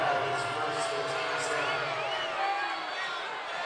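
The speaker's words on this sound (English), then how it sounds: "And the boos raining down from the Pacer faithful" Basketball crowd at the Convo rumbles with sustained booing from home Pacer fans after a foul call, a dense, steady roar filling the arena with scattered higher shouts and whistles.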